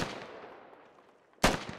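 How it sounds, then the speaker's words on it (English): Gunfire in the video game Squad: a faint, decaying rumble of distant shots, then one sharp, loud gunshot near the end. "INS letting some rounds fly on"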